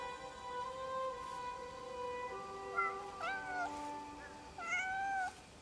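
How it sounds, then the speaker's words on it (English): A fat cat in the video game Crimson Desert meows several times in quick succession, moderately loud and close, over a steady, sustained tonal game background with no talking. "I only remember picking up one fat cat."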